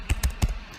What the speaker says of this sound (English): type exactly what I'm typing right now